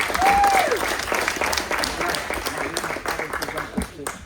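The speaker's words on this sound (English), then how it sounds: "Let's give her a round of applause." Steady applause from a crowd at a wine house ribbon cutting, dense clapping running throughout at a fairly loud level, with a brief whistle near the start.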